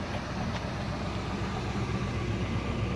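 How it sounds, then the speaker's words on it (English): A 1976 Cadillac Eldorado idles with a steady, even low rumble, fairly quiet and unchanging throughout, with no voices over it. "The car is running right now."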